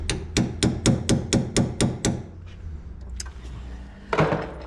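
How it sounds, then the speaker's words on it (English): Eight sharp, evenly spaced hammer blows strike a 2013 Corolla steering knuckle with a failed wheel bearing. They ring loud and close, then come a few faint clanks and one heavier knock near the end. "that's not good to hammer it on like that"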